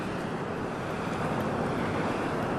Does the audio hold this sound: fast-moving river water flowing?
yes